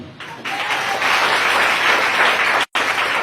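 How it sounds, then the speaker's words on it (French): Church congregation applauding steadily, a dense wash of many hands clapping that holds loud and even for about three seconds, with a brief cut near the end before resuming. "On acclame Jésus"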